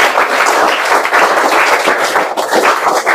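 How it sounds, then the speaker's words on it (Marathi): A school get-together audience applauds steadily, a dense wash of clapping that holds at an even level from start to end, with no talk over it. "लाख लाख शुभेच्छा देताना जोरदार आपण टाळ्या"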